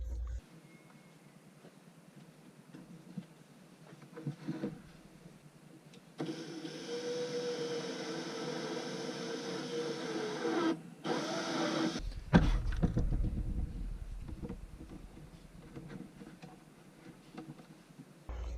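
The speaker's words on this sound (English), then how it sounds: "close this up, and we'll get that entrance hole drilled" A step drill bit bores an entrance hole through a plastic fish finder battery box for a Sun Dolphin Boss 12 SS kayak, a steady grinding whir lasting several seconds up close, followed by a louder burst of handling noise.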